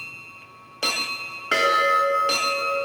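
Synthesized Indian temple bell tone played on a Korg Kross 2 keyboard, struck three times in succession, each strike bright and metallic with a long ringing decay, loud and close with no talking.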